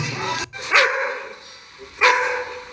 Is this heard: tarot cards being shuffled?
no